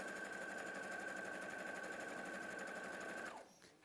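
A sewing machine runs at a steady, even speed stitching a quarter-inch seam, a close continuous hum with a high whine that stops abruptly near the end.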